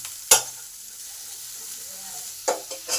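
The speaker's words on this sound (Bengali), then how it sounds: "এবার ক্যাপসিকামগুলোকে ভেজে নেব। সামান্য পরিমাণ নুন দিলাম, ভালো করে 2 মিনিট নেড়ে নিই।" Capsicum frying with a pinch of salt in coconut oil, a faint steady sizzle broken by a few sharp spatula scrapes as the pan is stirred.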